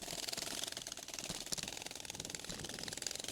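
A sick Kawasaki KLR dual-sport motorcycle engine sputters while climbing a steep mountain pass, a fast, uneven ticking putter that is fairly faint and continuous, with no talk.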